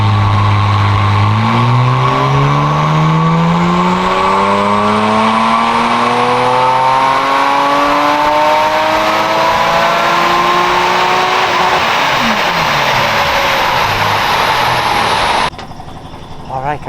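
A car with a new 3.8L engine runs hard on a dyno, its loud engine note climbing steadily through the revs for about fifteen seconds before dropping off abruptly at the end.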